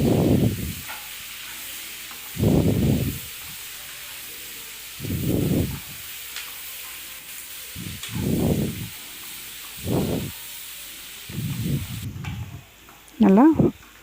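Three big chopped onions sizzle and hiss in a pan for paneer gravy, the frying rising in repeated surges as they are stirred, close and steady.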